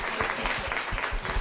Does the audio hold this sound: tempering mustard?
no